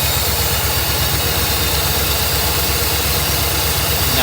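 A Mercedes 380SL engine idles fast with a steady, even low rumble and hiss, close by and unchanging, its idle air valve lacking electronic control.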